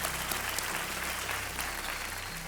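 A quiz-show studio audience gives a sustained round of applause to welcome guest Rajeev Makhni, an even, dense clapping texture heard alone at a moderate level across the whole stretch.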